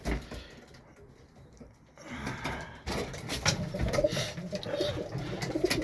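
Birmingham roller and tippler pigeons in a breeding loft coo softly in low, throaty calls, fairly close, over rustling movement and low background noise.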